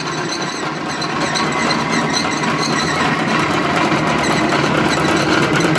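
A grinding mill machine running loudly and continuously nearby, a steady mechanical hum and rattle with rapid rhythmic vibration and no pauses.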